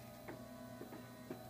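A MakiBox 3D printer running a print gives off a quiet, steady mechanical hum, with soft ticking stepper-motor pulses recurring at a regular rhythm and no voices.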